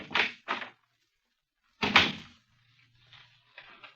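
A door opens in the Black Museum at Scotland Yard, heard as two quick knocks or handle clicks followed by a louder, closer clunk and a low creak that fades into a quiet room.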